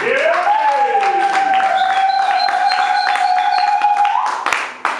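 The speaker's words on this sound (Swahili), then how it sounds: "Vigelegele kwao." A church congregation at a theology graduation and consecration service ululates in celebration, one long, piercing, steady high-pitched trill held for several seconds over a soft bed of crowd noise, ending with a brief burst of clapping.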